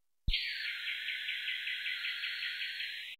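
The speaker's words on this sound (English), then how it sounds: "If we play back, we can hear only the isolated birds which are bounded by the selection." A steady, high-pitched chirping buzz of small birds holds for about three seconds, starting abruptly and stopping cleanly, with nothing else around it.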